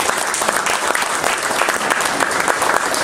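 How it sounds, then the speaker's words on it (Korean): Dense audience applause at a provincial disability sports association policy workshop, many people clapping together in a loud, continuous roar with no talk over it. "우리 강용대 처장님을 비롯한 우리 장애인 체육회에 있는 분들 정말 수고했다고 박수 한번 쳐주시면 감사하겠습니다."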